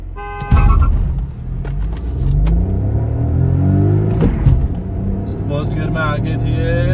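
Two Volkswagen Virtus sedans, a GT and a 1.0 TSI, accelerate hard through the gears in a drag race, their engines roaring loud and close while people talk over the rising drone.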